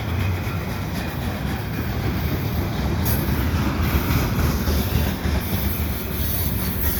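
A CPKC freight train of auto racks and tanker cars rolls past at Dorval in winter, loud steady wheel roar on the rails with a brief high squeal.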